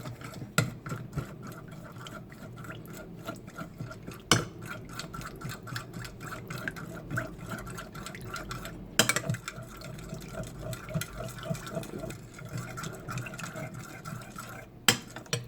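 Balsamic vinegar, oil and seasoning are mixed in a bowl: a rapid, continuous clicking and tapping of a utensil against the bowl with a wet swishing underneath, close and steady, with a few louder knocks.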